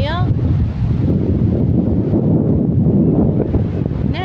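Strong wind roars steadily across the microphone on Beddouza beach near Safi, Morocco, a constant loud rush that drowns most other sound, with faint voices at the edges.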